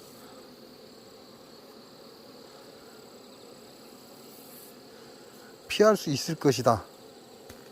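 Captured hornets buzz in a steady, faint drone throughout, and near the end someone speaks over them briefly.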